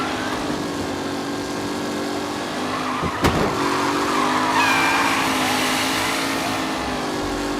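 Race cars roar through a race in the Mafia video game, a steady blend of engine drone and tire noise with a brief sharp burst around the middle, continuous and fairly loud throughout.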